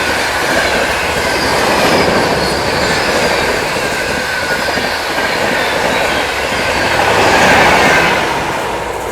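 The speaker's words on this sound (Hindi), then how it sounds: "भाई साहब ये थी मधुपुर हमसफर एक्सप्रेस।" Madhupur Humsafar Express rushing past at speed, a sustained loud roar of wheels and rail noise with steady clatter that swells near the end as the coaches stream by close.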